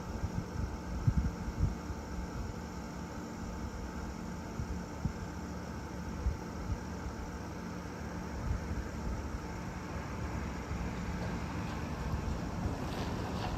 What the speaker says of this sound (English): That's your outside fan and compressor.